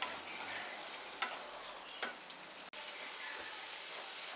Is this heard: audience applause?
no